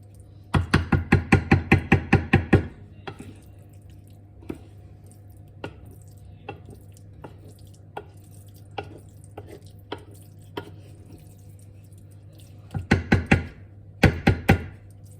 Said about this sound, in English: Stirring occasionally.